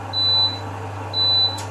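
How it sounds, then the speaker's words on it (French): Dishwasher signaling the end of its cycle with two clear high-pitched electronic beeps, evenly spaced about a second apart, over a low steady household hum. "C'est mon lave-vaisselle qui bip bip là."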